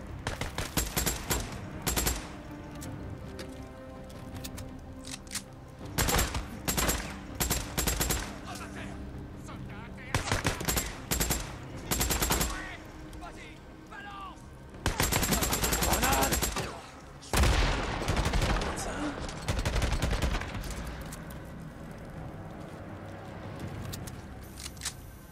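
Bursts of gunfire from the Days Gone video game, repeated loud automatic volleys in clusters separated by short lulls, dense and continuous through the stretch.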